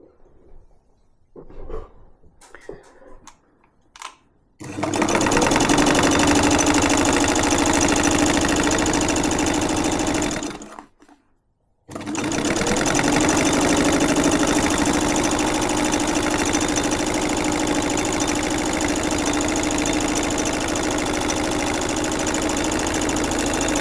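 A vintage Jones sewing machine runs for free-motion quilting: after a few quiet handling knocks, a loud steady mechanical whirr starts, stops briefly for about a second, then resumes and drones on evenly.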